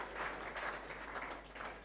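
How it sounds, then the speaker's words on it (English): An audience at a journalists' conference in Ghana applauds, faint and somewhat distant, a soft continuous patter of clapping with uneven swells. "A round of applause."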